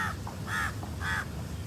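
A crow caws outdoors in the morning, two loud harsh calls about half a second apart, with a fainter call before them, over soft background noise.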